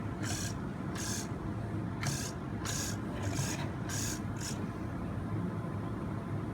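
Steering servo on an RC 4x4 crawler running through repeated tests, giving seven short, sharp whirring bursts in an uneven rhythm over a steady background hiss.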